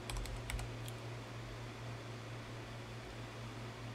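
A brief burst of clicky computer keyboard typing, close and fairly faint, followed by a steady hum of a fan in the room.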